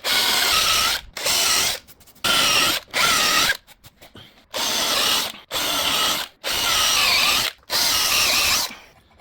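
A power drill bores holes in a solid wood bed frame in a series of roughly seven short bursts, each a close, loud whirring grind separated by brief pauses.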